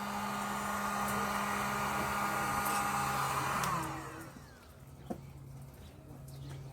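A heat gun runs steadily, warming the metal of an Alpha .28 RC nitro engine with a broad blowing whoosh and whine, then shuts off around four seconds, leaving quiet room tone and a single faint click.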